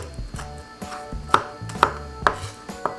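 A knife chops red and green chili peppers on a board, with sharp, close, rhythmic cuts landing about every half second and no talking.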